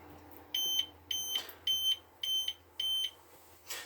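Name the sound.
dishwasher tank full beeping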